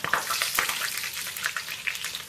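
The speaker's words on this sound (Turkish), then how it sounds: "Şimdi patlıcanlarımı şöyle teker teker kızartacağım arkadaşlar bu şekilde." Eggplant sizzles and crackles in hot salted oil, close up, with constant bright spitting and popping bursts throughout.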